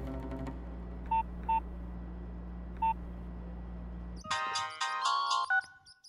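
Phone dialing in a Telugu movie scene: three short separate keypad beeps over a low hum, then a louder ringing tone pattern as the call connects.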